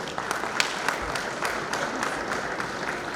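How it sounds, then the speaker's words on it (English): Guests at a Zimbabwe women's soccer league dinner in a hotel clap in a moderate, uneven round, with a few sharper individual claps standing out against the steady patter. "Let's give them a round of applause."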